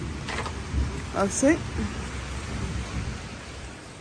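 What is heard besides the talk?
thunderstorm with rain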